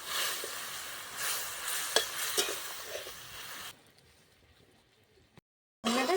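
Beans being stirred in a pan with water for a vegetarian bean dish, a scraping sizzle with a few utensil clicks that suddenly drops to near silence before resuming briefly.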